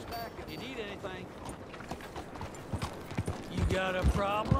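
Horse hooves clip-clop in Red Dead Redemption 2, a run of sharp, regular hoofbeats set against a murmur of voices and ambient game sound, growing a little louder toward the end.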